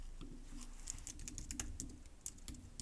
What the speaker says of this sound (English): Man, what am I typing?